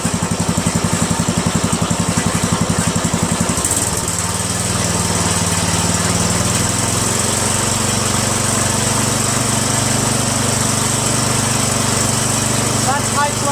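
A Poulan 16.5HP lawn tractor engine, freshly fitted with a new carburetor, chugs at a rhythmic idle, then revs up to a smoother, louder high-throttle drone that holds steady close by.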